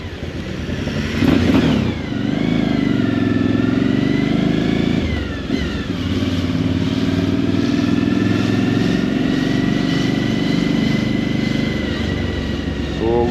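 A motorcycle engine revs hard and loud at close range, climbing and dropping in pitch through repeated throttle blips, with sharp pops and crackles scattered through the sustained roar.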